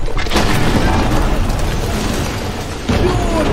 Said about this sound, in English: Gotta shoot him. I gotta shoot him, sorry.